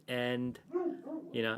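A dog gives two loud barks from nearby, with a voice talking between them.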